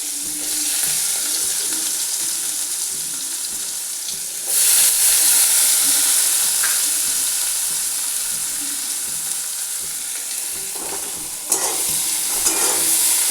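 Onions frying in a pan after panch phoron has browned, for a fish curry with pointed gourd: a continuous close sizzle with stirring, the hiss swelling louder midway, no talking.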